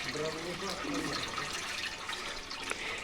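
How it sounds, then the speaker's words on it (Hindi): Water rushes and splashes steadily as two brothers wash wheat outdoors, a continuous wash of liquid noise with faint voices underneath. "और ये दोनों भाई गेहूँ धो रहे"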